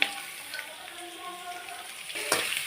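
Soft, steady sizzling of onions, green chilies and curry leaves sautéing in a pan, with a few clinks and scrapes near the end.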